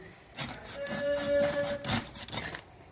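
A hilsa fish being cut with a blade, giving a close, scraping rasp of steel through flesh and scales over a couple of seconds, with a brief tonal squeak partway through.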